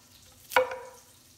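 Bacon browning in a slow cooker gives off a single short, bright sizzle or stirring burst that fades within half a second, close by, against a quiet background hum.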